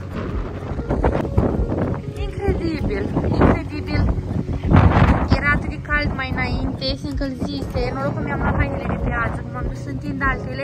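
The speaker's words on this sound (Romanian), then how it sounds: "S-a pornit un vânt, dar nu știu cum să zică, nu plouă, pare că plouă." Strong wind from an approaching storm buffets and roars across the microphone throughout, with a person talking over the gusts.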